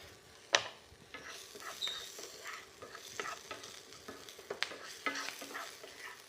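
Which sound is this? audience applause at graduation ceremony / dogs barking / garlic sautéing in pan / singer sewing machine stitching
garlic sautéing in pan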